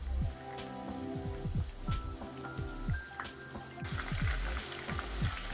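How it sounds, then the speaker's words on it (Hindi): Dhaka chicken pieces fry in oil over medium heat, crackling and popping in dense irregular bursts with a steady sizzle underneath, close and fairly quiet, without talking. "चिकन जो है वो फ्राई हो रही है, ढाका चिकन"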